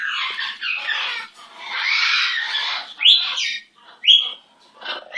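Pet bird letting out a run of raspy squawks, chatters and sharp rising chirps close to the microphone, in bursts separated by brief pauses.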